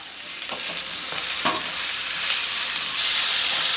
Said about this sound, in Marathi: आता आपल्याला ह्यामध्ये टोमॅटो घालायचा आहे आणि टोमॅटो 2 ते 3 मिनिटं चांगला परतून घ्यायचा आहे